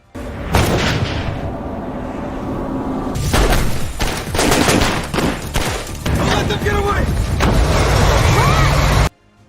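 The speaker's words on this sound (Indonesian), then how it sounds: "suara tembakan terdengar mengarah ke mereka" Gunfire in a film shootout, a loud, dense barrage of shots and booms rolling on for several seconds with brief lulls, up close and overpowering, cutting off abruptly at the end.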